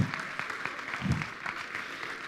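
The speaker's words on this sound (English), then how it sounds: "Please give her a round of applause." Scattered applause from an audience at a municipal education event in Entroncamento, Portugal, a brief, modest patter of claps at moderate distance.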